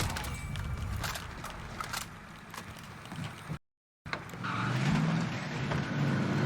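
Car engine and road rumble while driving in the Warzone battle royale game, a steady loud drone that drops out briefly to silence, then returns with a low growl.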